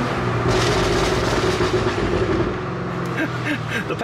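A Cadillac Escalade-V SUV engine roars loud and continuous as it revs through a 10-speed automatic, with a deep rumble throughout and brief voice-like sounds mixed in.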